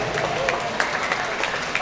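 A brief burst of audience clapping for a questioner at a career talk event, a crowd applauding at moderate volume with voices murmuring underneath.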